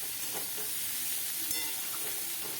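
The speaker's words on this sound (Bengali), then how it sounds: "একটু লাল ভাব করে ভেজে নেব আলুগুলো" Potatoes stir-fried in a pan of oil until reddish hiss in a continuous, even sizzle, with faint scrapes from stirring.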